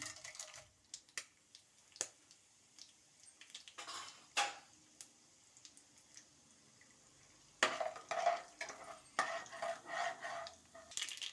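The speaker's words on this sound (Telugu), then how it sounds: "అదే పెన్ను ఆయిల్లో పోపు గింజలు వేసేస్తున్నాను." Mustard seeds crackle and pop in hot oil in a pan, scattered sharp clicks at first, then a louder burst of continuous sizzling and spattering up close.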